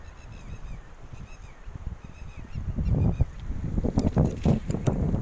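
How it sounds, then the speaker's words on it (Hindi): Birds call with repeated chirps and whistles over a steady rumble of flowing water and wind, growing busier and louder toward the end. "चिड़ियाओं की आवाज़ आ रही है।"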